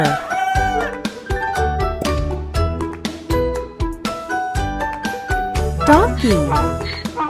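A rooster crows near the end over a bright, steadily pulsing backing track with jingling, the crow standing out loud and close.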